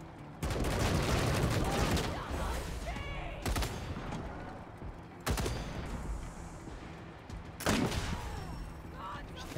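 Gunfire in the video game Wasteland 3, a dense sustained barrage of shots broken by several sharp, louder bangs, continuous and close, with talk mixed in.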